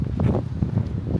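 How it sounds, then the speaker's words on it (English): Strong wind buffets the microphone outdoors on a bright, gusty day near an island graveyard, a constant low rumbling roar with uneven gusts and no talking. "It's a very, very nice day, but very windy."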